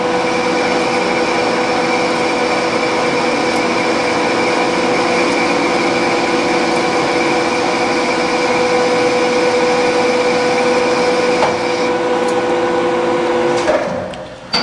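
Metal lathe taking a light test cut on a rifle barrel end, a steady loud mechanical whir with sustained tonal hum running for about fourteen seconds, close by, ending with a brief clunk as it stops.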